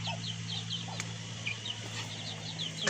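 Chickens and ducks cluck and chirp in repeated short calls against a steady low hum, with a sharp knock partway through.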